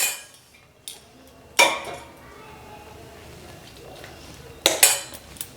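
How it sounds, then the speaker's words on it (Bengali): Dough for Bangladeshi aowta pitha is stirred with hot water in a bowl. A utensil clanks sharply against the bowl a few times, with softer scraping and mixing noises in between. "আর এটাকে নাড়াচাড়া করে একটা টাইট ডো তৈরি করে নিতে হবে।"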